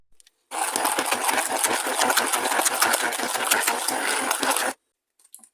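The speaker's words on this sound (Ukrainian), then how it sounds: "Все це нам потрібно перекалашматити ручним блендером." A hand blender whirs through a chocolate and cheese mixture with sugar, a close, steady motor drone with a fast rhythmic chopping pulse, stopping abruptly near the end.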